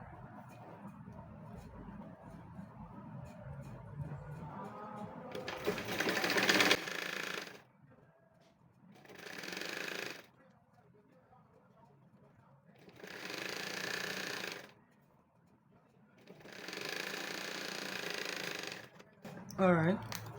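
A sewing machine stitches pleats in an aseoke fabric hair piece, with four bursts of fast, rattling mechanical whirring separated by pauses, close up, preceded by quieter talk.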